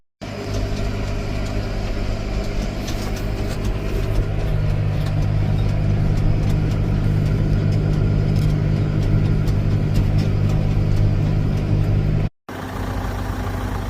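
A farm tractor spreading lime over a field runs with a steady heavy engine drone, loud and close, growing fuller partway through, with a brief cut near the end.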